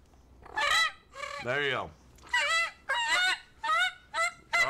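A person's voice imitates turkey calls: a series of short, nasal, honking yelps in uneven bursts, close up, with a brief spoken remark among them.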